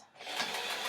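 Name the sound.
sewing machine stitching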